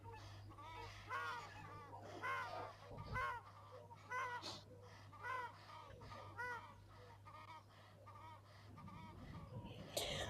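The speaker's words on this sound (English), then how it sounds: "It is indeed a spurwing goose." A spur-winged goose at a waterhole gives a series of close, rhythmic honking calls in repeated bursts over a low steady hum, pausing briefly between phrases.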